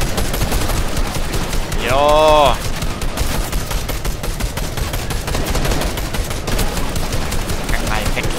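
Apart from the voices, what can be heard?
gunfire from the video game Fortnite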